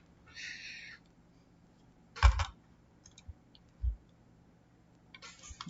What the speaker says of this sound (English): press the keyboard.